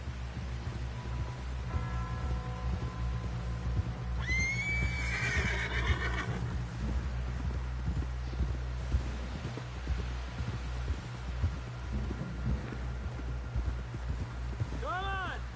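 A horse in the Red Dead Redemption 2 video game whinnies loudly once, with hooves clip-clopping over a low, throbbing game soundscape, and a second fainter neigh follows near the end.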